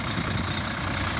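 A 2010 Temsa HD12 Safari coach with a 9.2 litre DAF PR engine and ZF automatic gearbox idles, giving a steady, continuous low diesel rumble close by with no talk.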